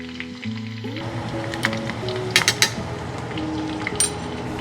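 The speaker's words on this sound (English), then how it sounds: "And we're gonna fry until everything is dry and brown" Chili crisp aromatics frying in oil over medium-low heat, a steady close sizzle and crackle throughout, with a few sharper pops and light clinks of a utensil against the pan.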